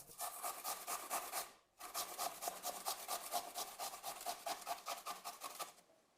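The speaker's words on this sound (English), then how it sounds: "Today we'll use the coarse side to grate everything. Just grate the potatoes now like this." Potatoes are grated on the coarse side of a hand grater, giving a fast rhythmic run of rasping strokes close by, with one brief pause before the scraping resumes at an even pace.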